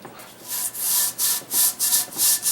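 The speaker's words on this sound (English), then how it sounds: "if I take my Scotch-Brite and go over it" A Scotch-Brite pad scrubs flash rust off a bare metal cart part in quick back-and-forth strokes, about seven rhythmic hissing rubs, close and fairly loud with no talk.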